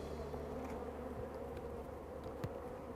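Honey bees humming at a hive entrance during swarm prevention work, a steady, close drone of many wings with occasional louder buzzes of individual bees passing near.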